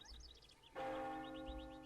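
A church bell rings out in a village battle in Mount and Blade: Napoleonic Wars, one sustained ringing toll with a long humming decay, and light bird chirps are mixed in around it.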